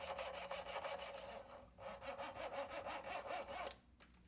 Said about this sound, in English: to remove those I just use a jeweler's saw to chop the very end of it off there